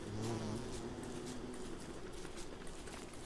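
Bees buzzing in the video game Don't Starve, a steady insect drone with a low hum that stays constant throughout, fairly close and moderately loud, with no talking.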